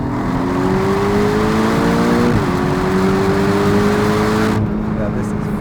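A Porsche 718 Cayman GTS accelerates hard on the road, its engine droning loud and steady from inside the cabin and climbing in pitch, with a short dip at a gear change and people talking over it.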